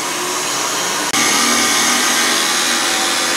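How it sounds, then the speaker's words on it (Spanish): An electric stand mixer beats chocolate cake batter with a steady, loud motor whir, briefly cutting out near one second before resuming at full, continuous strength. "esta batidora ya agarra como muy fuerte"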